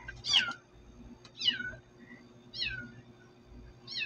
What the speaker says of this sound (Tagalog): May pusa.